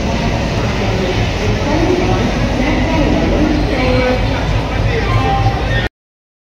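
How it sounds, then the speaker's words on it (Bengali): A long-distance express train, the Howrah–Jabalpur Saktipunj, rolling into Howrah station; a loud, continuous rumble of wheels and carriages fills the clip, with indistinct voices beneath it. "ট্রেন ঢুকছে হাওড়া স্টেশনে"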